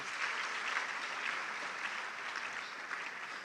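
Sustained applause from an audience at a university e-learning week event, following a cultural display from the Volta region, a dense, even wash of many hands clapping at moderate loudness without speech.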